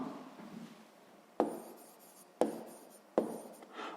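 A pen or pencil writes a handwritten math solution on paper, soft continuous scratching strokes broken by three sharp taps at regular intervals, close and quiet with no talk.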